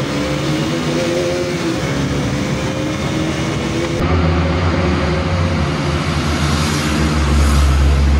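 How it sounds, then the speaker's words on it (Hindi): Two sport motorcycles, a Yamaha R15 and a KTM RC 200, drag racing inside a tunnel, their engines droning loud and steady with a sharp rise in revving and echoing roar midway as they accelerate. "सो गाइस ये हो रही है हमारी अब ड्रैग रेस शुरू"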